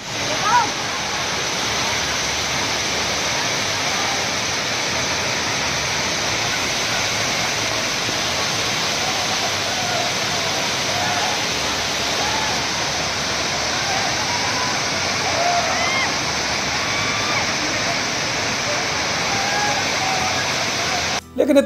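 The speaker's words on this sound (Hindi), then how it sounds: "ऊंचाई से जब पानी झरना के रूप में गिरत है" A forest waterfall drops about 150 feet, producing a loud, steady roar of falling water that holds constant, close and unbroken throughout.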